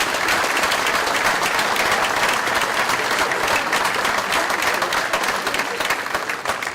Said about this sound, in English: How about a big round of applause for all of our parents that are here tonight